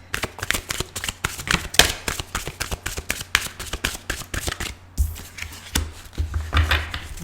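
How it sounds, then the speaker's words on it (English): Tarot cards are shuffled in quick, rhythmic bursts of crisp riffling, close by and fairly loud, with a short pause partway through. "I'm going to show you 3 cards, and I'm going to start to shuffle"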